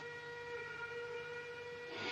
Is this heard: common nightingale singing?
no